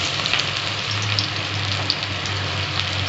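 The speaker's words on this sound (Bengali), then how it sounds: "আমি পেঁয়াজটা ভেজে নিচ্ছি। পেঁয়াজটা দিয়ে দিচ্ছি।" Onions frying in oil for a rohu fish kalia produce a steady, even sizzling hiss, close and moderately loud, with no talking.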